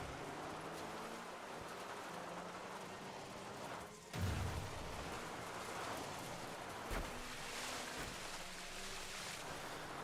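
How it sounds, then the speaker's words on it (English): Tires roll over wet mud and dirt in the racing game Dirt 5 with no engine sound, a faint, continuous rushing and sloshing texture with a couple of brief thumps along the way. "get used to the sounds of tires on wet mud and dirt, because there's no engine sound"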